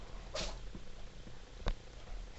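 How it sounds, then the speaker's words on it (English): A house cat sneezes indoors, two short, soft sneezes about a second apart against a quiet background. "That was just one of my cats sneezing."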